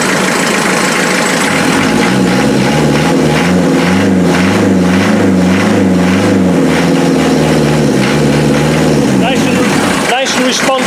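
Land Rover Defender 2.5 naturally aspirated diesel engine running close up, a loud clattering idle that rises into a revving surge and falls back, with a brief burst near the end.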